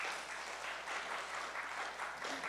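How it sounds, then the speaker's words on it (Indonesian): A church congregation in New York applauds in a steady, dense wash of clapping that stays even and moderately distant throughout, with no voices over it. "Berikan tepuk tangan bagi Tuhan."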